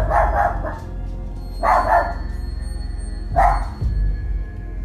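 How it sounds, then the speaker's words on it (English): A large pet dog barks in three heavy, booming bursts spaced about a second and a half apart, loud and close indoors against a steady low background rumble, with no talking. "this kind of sudden outburst by the dog is extremely unusual"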